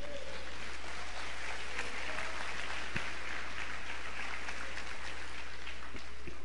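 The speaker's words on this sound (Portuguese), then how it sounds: "Dê um aplauso ao Senhor" A church congregation claps for the Lord during a Portuguese-language sermon, a dense, steady wash of applause that sounds moderately distant and holds evenly throughout, with a low constant hum underneath.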